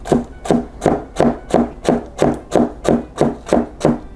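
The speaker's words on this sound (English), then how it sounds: "now everything else just gets a quick little chop" A knife chops vegetables on a cutting board for a cheesy tuna noodle casserole, about eleven crisp, even strikes at a brisk, steady rhythm, close and clear with no talking.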